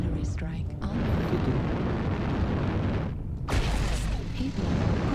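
Artillery strike explosions in the mech combat game MechWarrior Online boom and rumble, with a sharp burst at the start and another heavy blast midway over continuous low rumbling.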